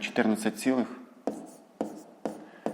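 Pen or pencil strokes writing numbers by hand for a fifth-grade maths exercise, a few short scratchy taps and strokes following a brief stretch of speech, close and fairly distinct.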